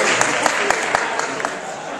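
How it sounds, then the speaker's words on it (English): An audience at a panel debate on Israel claps, a loud, dense burst of applause with a few sharper individual claps standing out briefly before it thins toward the end. "Thank you for your applause."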